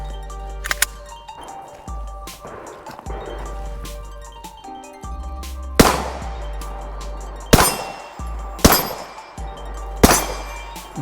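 Gunshots ring off two metal targets at an outdoor shooting range, several sharp reports each followed by a metallic clang, spaced unevenly over faint background noise.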